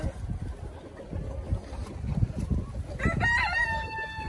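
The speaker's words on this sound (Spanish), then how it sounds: "ahorita voy a dejar salir un rato esas gallinas de allá" A rooster crows loudly near the end, a drawn-out rising call, after a stretch of low rustling and scattered clucking from nearby hens in the early morning.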